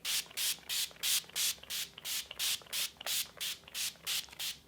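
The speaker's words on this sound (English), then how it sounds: "set the face with the Urban Decay Chill Setting Spray" A rapid series of short, airy sprays of setting spray onto a face, about fifteen evenly spaced bursts, close and soft, with no voices.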